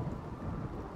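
Thunderstorm ambience from the video game RimWorld: a low, steady rumble of rain and distant thunder filling one brief second at a faint level, with no voices.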